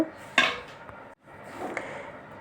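Metal utensils clink against a plate while hot rice is served, one sharp scrape and clatter followed by softer scooping and tapping, close and clear with no talk.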